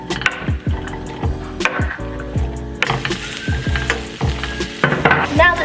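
Onion frying in olive oil sizzles up close, with repeated knocks and scrapes of a utensil stirring in the pan in a loose rhythm.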